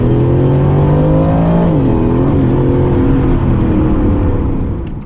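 An Aston Martin Vantage twin-turbo V8 roars loudly and close, climbing in revs, dipping at a gear change, then building again before fading slightly at the close.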